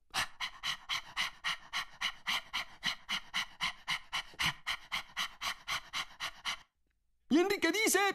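A voice imitates a panting dog with about twenty quick, rhythmic breathy huffs, close and clear, then falls briefly silent before singing voices come in at the end.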